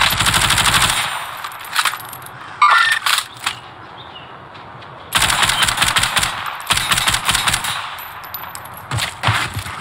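Light machine gun firing in a military shooter video game, loud rapid bursts of automatic gunfire in several strings separated by brief pauses.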